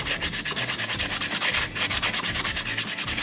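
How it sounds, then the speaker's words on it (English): Steady back-and-forth rubbing of fine wet sandpaper over hardened eco-resin, a rhythmic wet scratching with regular strokes, close and fairly loud, no voices. "Get it wet and just sand away."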